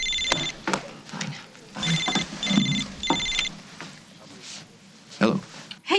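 A telephone rings in repeated short electronic bursts of two or three rings, mid-loud and close, with people talking around and between them.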